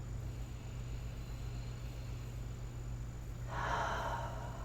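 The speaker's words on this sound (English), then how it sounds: "You can just listen to your breath." A long slow breath during a yoga session, a soft hushed exhale that swells near the end over a faint steady background hum, with no talking.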